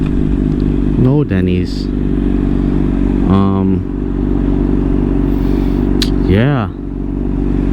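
A Honda CBR600RR motorcycle engine idling steadily and loudly close by, with a few short revs rising and falling; someone speaks briefly over the engine.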